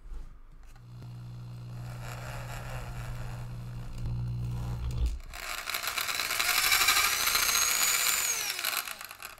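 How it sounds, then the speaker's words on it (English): A power drill hums, then surges into a louder whirring as it bores into a block of wood, rising in pitch near the end. "always drill the hole smaller than you need"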